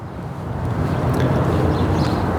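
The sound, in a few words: wind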